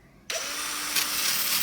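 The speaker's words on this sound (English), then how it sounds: "I just got my little sort of sanding thing here on the end of my drill" A power drill fitted with a small sanding attachment whirs to life and grinds steadily against old rusty tin snips, starting abruptly after a brief quiet moment and running loud and continuous to the end.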